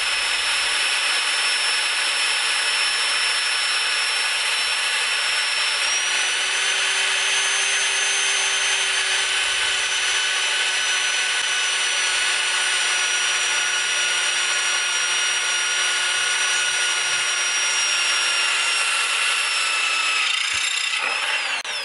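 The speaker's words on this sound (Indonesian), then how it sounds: "setelah ini kita akan bor besi dengan ketebalan 4 mm" A Bosch GSB 550 impact drill whines steadily at high speed, boring into 4 mm steel for about twenty seconds, loud and close, then winds down at the end.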